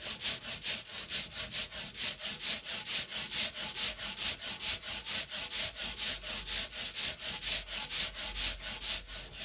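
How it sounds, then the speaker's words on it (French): An ink roller spreads printing ink over a marble slab in a printmaking studio, giving a steady, rhythmic rolling rasp with about two strokes per second, close and alone. "Je mets de l'encre sur mon marbre, je l'étale. Et je prends mon rouleau encreur."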